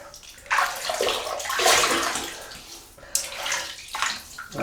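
Hot water splashes and sloshes in a basin as a face is wetted before lathering for a shave, with close, bursty splashes that come in two main rounds and no talk.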